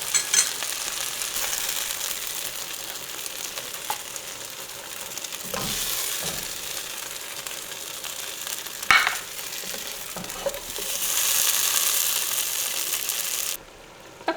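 Steak sizzling in a hot pan while breakfast burritos are cooked in bulk, a steady broadband fry hiss running throughout with brief clatters and a louder sizzling swell near the end before cutting off.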